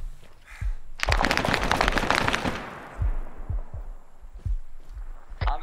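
Gunfire in the video game ArmA 3 SOG Prairie Fire: a loud sustained burst of automatic fire, then single sharp shots spaced out over several seconds, each close and punchy against a quiet background.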